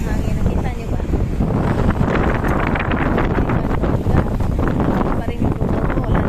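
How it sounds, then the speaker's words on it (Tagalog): Strong wind buffets the microphone in a loud, continuous roar with no letup, while a voice talks underneath. "ang panahon natin is malakas ang hangin"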